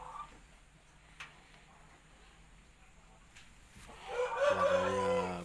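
A Shamo gamecock crows loudly and close in the last seconds, a long harmonic call rising out of a quiet background with faint murmuring beforehand.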